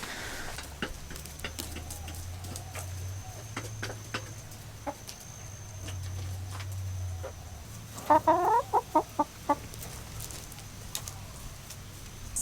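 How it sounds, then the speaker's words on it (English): Free range chickens cluck near their coop, a steady low murmur of hens with scattered sharp calls and a brief burst of louder, rapid clucking partway through, outdoors in a quiet morning setting. "These are free range chickens."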